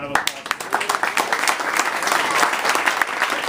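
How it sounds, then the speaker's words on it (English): Supporters at a political concession speech give loud, sustained applause, a dense burst of clapping from a nearby crowd with a few voices mixed in, holding steady throughout. "a round of applause."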